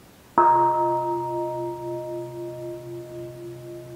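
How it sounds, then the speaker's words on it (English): A meditation bell struck once during a Buddhist retreat Dharma talk, a clear close strike followed by a long sustained ringing tone that slowly fades and wavers, with no voices. "Let us enjoy another sound of the bell just to let everything"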